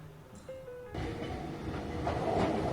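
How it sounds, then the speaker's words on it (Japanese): An Enoden electric train near Enoshima, Japan rolls in with a rising rumble and rattling wheels, growing gradually louder as it approaches, with a faint high squeal early on. "江ノ電が来るのを5分ほど待ちたいと思います。"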